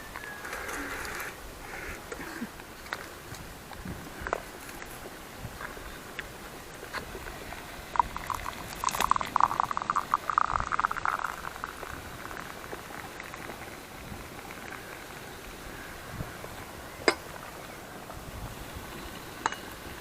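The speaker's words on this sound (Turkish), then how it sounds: "Çayın suyu kaynıyor." Water for tea bubbling and hissing softly over an open fire at a camp as it comes to a boil, with a faint steady rush throughout and a brief livelier burst of bubbling midway.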